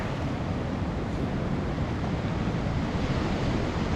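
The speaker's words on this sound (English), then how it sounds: "there are huge swells in the direction I'm pointing" Huge ocean swells roll in at Shi Shi Beach, a constant, dense roar of surf mixed with wind buffeting the microphone, loud and unbroken throughout.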